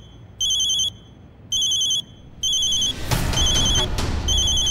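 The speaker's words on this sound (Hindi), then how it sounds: "मेरी माँ का फोन है।" A phone rings with a bright electronic tone in three evenly spaced bursts, followed by rustling and handling noise as the ringing continues more faintly.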